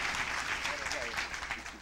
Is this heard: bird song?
no